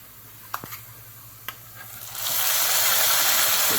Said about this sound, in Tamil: ஸோ இப்போ ஊற்றிடலாம் குழம்புல